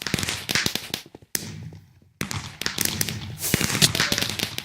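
Fireworks burst in the Minecraft video game on a Funcraft server, with rapid crackling pops and sharp bangs in quick clusters, a near-silent gap of about a second, then renewed loud flurries.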